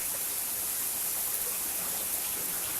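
Heavy pouring rain makes a dense, unbroken hiss that stays loud and constant throughout, with no other sounds or voices.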